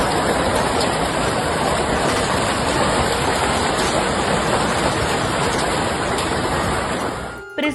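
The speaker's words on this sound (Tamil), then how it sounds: "ஆலங்கட்டி மழை பெய்து அந்த நகரை அச்சுறுத்தி வருகிறது" A heavy hailstorm with large hailstones pounds down on a town in southeast Brisbane as a steady, dense roar of impacts that barely varies, then cuts off at the end.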